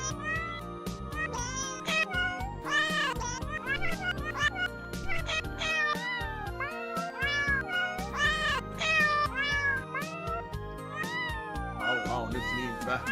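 A cat meows again and again in rapid, overlapping cries that run on steadily, close and loud, with a voice heard faintly now and then.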